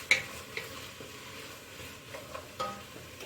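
Garlic cloves stirred in a soup pot over medium-low heat make a quiet, gentle sizzle broken by a few soft scrapes and taps of a spoon.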